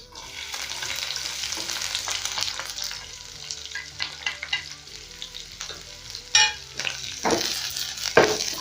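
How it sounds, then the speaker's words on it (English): Onions and garlic hit hot cooking oil in a pan, a loud continuous frying hiss that settles into crackling sizzle, with stirring scrapes and clanks of a utensil toward the end, close and without voices. "I'm going to go in with my onions and garlic once my oil is hot enough"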